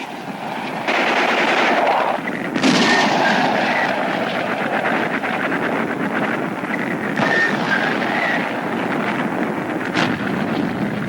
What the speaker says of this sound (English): From further back, the artillery is feeling for the range. Direct hit!